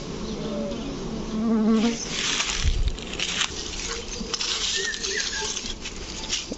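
Honey bees swarm close by at a bee farm in Magura, Bangladesh, producing a dense, continuous buzz with faint rustling and wing flutter.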